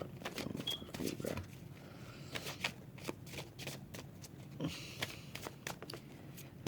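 Tarot cards are shuffled and drawn by hand, producing soft repeated riffling and flicking bursts, quiet and close, while someone talks in between.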